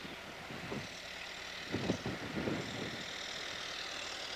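A farm tractor pulling an old manure spreader loaded with maple sap tanks rumbles at a distance in New Hampshire, a low steady engine drone with a few louder surges as it works closer.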